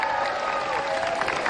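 An indoor crowd cheers and applauds in a steady, moderately loud wash of clapping and voices throughout the short moment.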